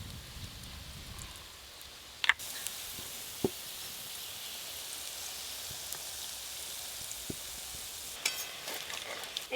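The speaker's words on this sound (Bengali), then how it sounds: "ওপর দিয়ে আরেকটু সর্ষের তেল দিয়ে দেব।" Lentil fritters fry in mustard oil, giving a soft, steady sizzle with a few sharp clicks and clatters from utensils, heard close and quiet with no talking.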